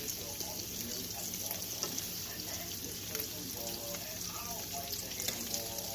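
Meatballs shifted around a hot, greasy frying pan for spaghetti and meatballs, giving a steady close sizzle and fry with scattered scraping stir sounds and faint clinks throughout.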